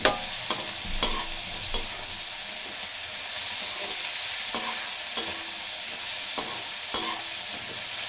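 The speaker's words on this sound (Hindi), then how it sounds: "गोभी गाजर और बीन्स जो हैं फ्राई हो गए अच्छे से" Cauliflower, carrot and beans fry in a pan with a steady soft sizzle and hiss, broken by a few light stirring clinks against the pan.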